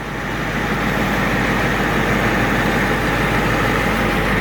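An International IDI diesel dump truck engine idles steadily, a continuous low rumble with an even knocking rhythm, close and fairly loud, with no one talking.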